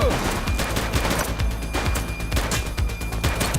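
Rapid bursts of automatic gunfire crackle in a police shootout in the video game The Precinct, dense overlapping shots with sharp cracks, loud and continuous.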